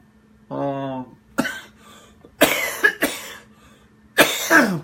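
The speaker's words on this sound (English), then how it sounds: "I've been battling a little bit of a cough lately" Several harsh coughs burst out close by, separated by short pauses, with a brief voiced sound before the first.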